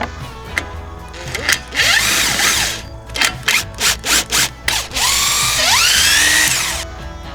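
A power drill whirs close up in several bursts: long revving runs, then a series of quick on-off pulses and another whining spin-up, while working on a Stihl MS 500i chainsaw.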